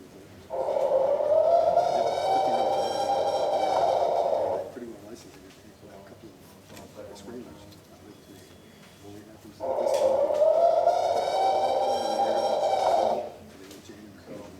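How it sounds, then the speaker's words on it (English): Recorded in the Oklahoma-Texas region and attributed to Bigfoot, a long, wavering howl sounds twice, each lasting about four seconds, rising then sustaining with a hoarse, distant quality over faint background noise. "It's a single howl, it's pretty good."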